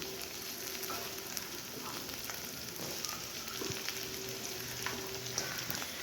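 A mixed vegetable dish for the Bhogi festival, seasoned with rock salt, sautés in a pan with a steady, close, continuous sizzle and occasional faint stirring, with no talking.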